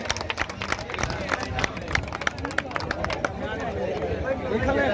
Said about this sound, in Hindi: एक बार जोरदार तालियों से स्वागत करेंगे